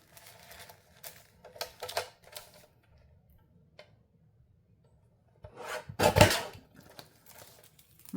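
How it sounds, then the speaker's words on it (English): Paper sheets being cut along the top edge, probably with scissors, giving a few soft rasping snips early on and then one louder, denser cut near the end, close by with no talking. "let me just cut the top off"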